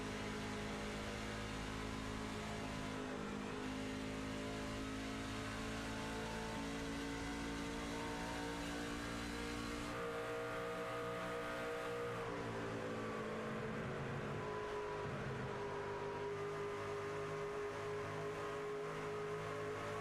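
Onboard a NASCAR-style race truck in a truck series race at Charlotte, the engine roars loudly and continuously with strong harmonic tone, shifting pitch as it revs down and back up through corners.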